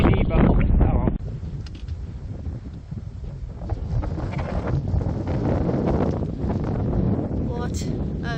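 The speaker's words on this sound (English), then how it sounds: "A bit breezy, but oh well." Gusty wind blows across an open mountain lookout in Pine Valley, a steady broadband rush into the microphone that starts heavier and settles into continuous buffeting, with occasional faint rustle and no talk heard.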